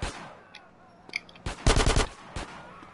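Video-game gunfire in GTA San Andreas on PS4: a few scattered single shots followed by a loud, rapid automatic burst lasting about half a second, then one more sharp shot, with no talking.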